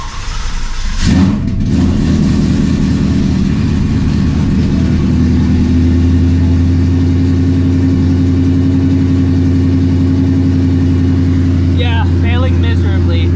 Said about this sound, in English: Let's get this cold start